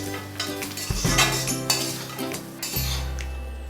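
Cluster bean and coconut fry stirred in a pan: a metal spoon scrapes and clinks against the pan in repeated strokes over a soft sizzle, close by with no talking.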